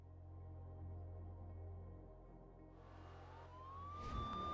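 Police car sirens from The Crew racing game rise in pitch and swell toward the end, faint at first over a low engine rumble; no voices.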